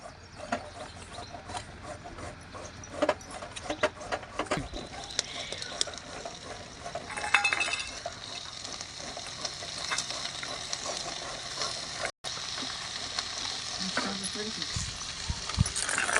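Chopped vegetables including cauliflower are stir-fried in a pan, with a continuous sizzle and frequent clattering scrapes and taps of a stirring utensil, close and moderately loud, with a brief cutout partway through.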